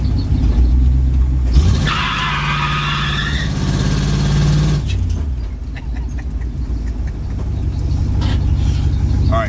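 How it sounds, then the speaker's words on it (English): Tires squeal between about 2 and 3.5 seconds as an old 1966 Chevy truck attempts a burnout, over the steady low rumble of its idling and revving engine, close and loud, with no talk. "I guess we're not going to get much of a burnout today, are we?"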